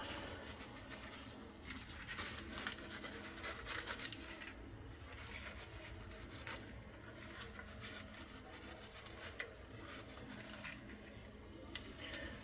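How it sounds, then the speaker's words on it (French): Solder and flux paste residue scraped off the circuit board of a continuity tester during a repair, a steady close rasping and scratching with irregular bursts, fairly quiet and without speech. "On va enlever là, tous les résidus là, de soudure, de pâte."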